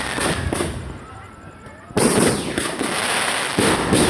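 Grand fireworks display at a Christmas park opening at a provincial capitol, with repeated bursts and crackling booms, a sharp loud blast near the middle, and excited voices shouting over the explosions.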